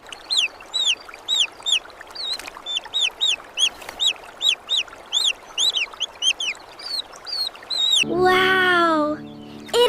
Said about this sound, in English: It is a beautiful baby goose!